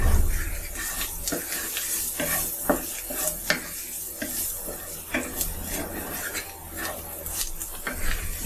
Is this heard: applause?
no